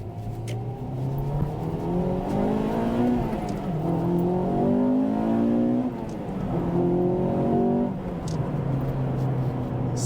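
Honda front-wheel-drive car with a naturally aspirated engine revs up through several gears, its engine note climbing and dropping with each shift, steady and fairly close with no talking.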